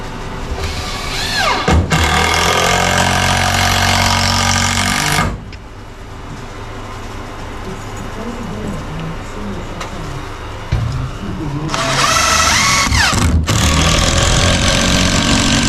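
An impact drill whirs loudly in bursts at the start and end, with a quieter mechanical hum and clatter in between.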